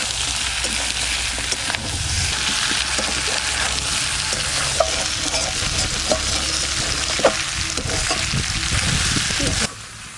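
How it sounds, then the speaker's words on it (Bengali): Country chicken pieces with spices fry and are stirred in a pan, a loud continuous sizzle with the scrape and clatter of a spatula turning the meat, ending abruptly. "মাংস ভাজা হয়ে গেছে, একদম ভাজা ভাজা হয়ে গেছে, মশলাটা কি সুন্দর গায়েও লেগে গেছে"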